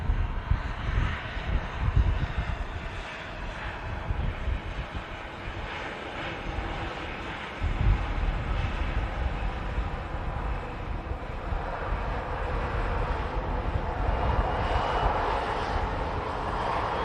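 A Hainan airliner taxis at Manchester Airport in strong winds, its jet engines giving a steady, distant roar layered with gusty wind noise across the whole stretch.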